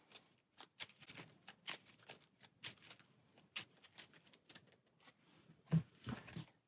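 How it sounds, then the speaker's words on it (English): A deck of encounter cards for the Marvel Champions card game gets shuffled, giving a quick series of close, crisp riffling flutters and soft slaps against a quiet background. "So giving the encounter deck one last shuffle."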